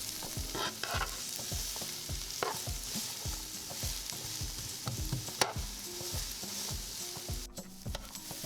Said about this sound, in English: Let's keep stirring these onions here for about 5 minutes or so